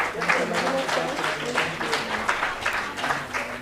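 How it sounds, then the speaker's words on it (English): A crowd applauds steadily, a dense wash of clapping that holds for a few seconds. "Kindly give a big round of applause."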